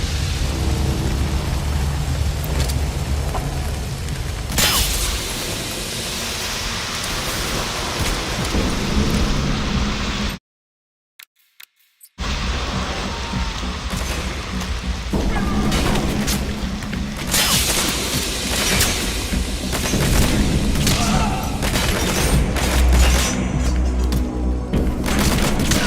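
Gunfire and explosions in the Metal Gear Solid 5 video game, a dense, loud barrage of shots and booms that cuts to a brief silence, then resumes as sustained heavy fire and rumbling blasts.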